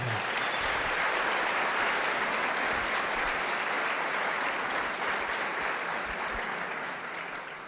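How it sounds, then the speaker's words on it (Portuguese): A church congregation claps together in sustained, dense applause at close range, holding steady for several seconds before tapering slightly at the end, with no voices over it. "Vamos lá, vocês podem dar a Deus um aplauso porque Ele fez tudo mais lindo."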